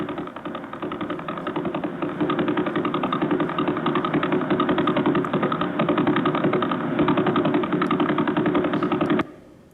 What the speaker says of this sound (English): So that's a pulsar spinning 11 times a second, 660 revs per minute.